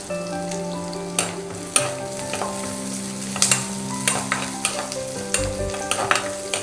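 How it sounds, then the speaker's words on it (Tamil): Onion and curry leaves fry in a hot pan, a close, steady sizzle broken by frequent clinks and scrapes as a spoon stirs them. "வெங்காயம், கருவேப்பிலை,"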